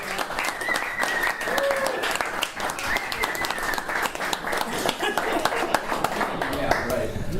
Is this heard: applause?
yes